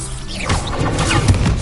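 The Expelliarmus disarming spell striking in Hogwarts Legacy, a loud, dense magical crash and burst lasting about a second and a half, with no talk.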